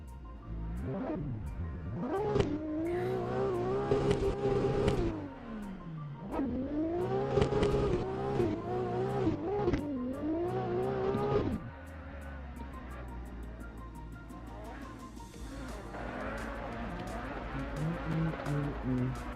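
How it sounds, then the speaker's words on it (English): A Toyota Supra drift car at a drift series qualifying round at DMEC Power Park, its engine revving hard and rising and falling while tires squeal through long slides, loud and close, with faint voices in the background. "Another one running the Jacko Supra"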